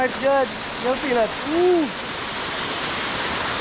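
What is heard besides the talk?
Tobago waterfall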